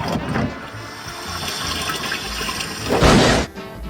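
A toilet on a railway train flushes loudly up close, a rushing surge of water that swells near the end and then cuts off, over steady background rumble.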